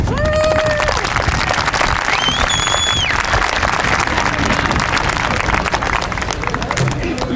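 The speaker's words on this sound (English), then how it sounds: "Another big round of applause for all three of our students for preparing and making the speech" Graduation crowd applause for student speakers at a high school ceremony, dense and loud clapping with cheering and whoops mixed in, carrying on steadily throughout.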